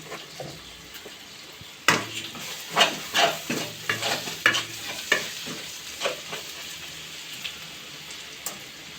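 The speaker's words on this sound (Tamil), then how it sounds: "உப்பு சேர்த்ததுக்கப்புறமா ஒரு ஒரு வதக்கு வதக்கிட்டு" Masala sautéing in separated oil with salt, a spoon stirring it in a run of close, rhythmic scraping strokes over a soft sizzle, alone without talk.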